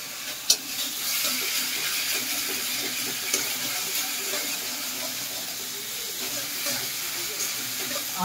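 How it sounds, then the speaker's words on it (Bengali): Pomfret fish fries in a pan with a soft, steady sizzle and faint spitting crackles, fairly quiet and continuous, with a brief clatter near the start. "উল্টা উল্টা, মাছ ভেজে যাচ্ছে"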